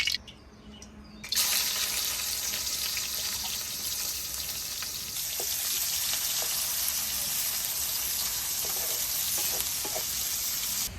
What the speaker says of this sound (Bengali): এবার মাংসের জন্য আবার তেল দিয়ে দিই কড়াতে, দিয়ে পেঁয়াজটা বেশ ভাজতে বসিয়ে দেবো